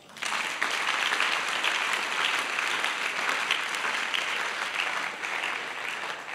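A church congregation breaks into loud, continuous applause that starts abruptly and holds at a steady, dense level for several seconds.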